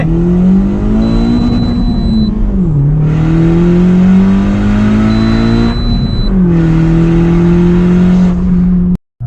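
Loud, close engine of a turbocharged Honda L15A VTEC car revving hard through a run, its steady droning pitch dipping twice at gear changes before climbing again, alone without voices.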